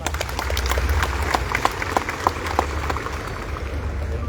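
An audience at a civil servant candidate ceremony in Muara Enim applauds steadily, a sustained wash of clapping in a large room with a few sharper individual claps standing out, continuing throughout without speech.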